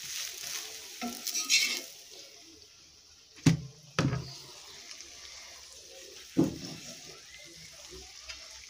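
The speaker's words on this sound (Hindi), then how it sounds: "ऐसा भुनना है 5-10 मिनट के लिए" Food is stirred and roasted in a pan in a home kitchen. A soft sizzle runs under scraping strokes of a spoon, with a few sharp clanks against the pan.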